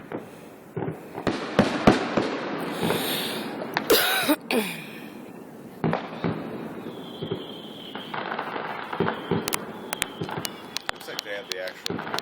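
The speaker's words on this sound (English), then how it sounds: "Looks like they have the actual fireworks set up though." Fireworks burst in sharp, scattered bangs and crackles, some loud and near, others fainter, with a whistling rise between blasts and people talking and coughing nearby.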